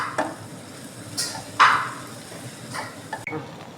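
Spice powders, including garam masala and ground pepper, are sautéed in a pan for chickpea curry, with a few brief, separate scrapes and stirs of a spoon over a faint, soft sizzle.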